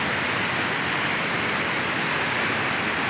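A waterfall with a steep drop roars in a nature reserve, a dense, constant rush of falling water that fills the scene without a break.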